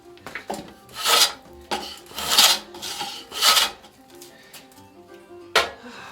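Hand tools shaving wood to shape a Greenland paddle, with several long rasping strokes in an uneven rhythm, close and fairly loud, separated by short quiet pauses and light knocks.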